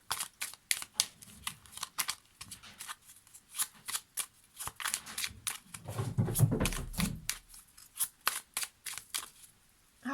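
Lenormand cards are shuffled close up in quick, crisp riffling flicks with a brief denser rustle partway through, quiet and steady.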